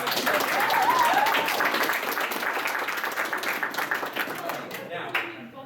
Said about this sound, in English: Give a round of applause on that.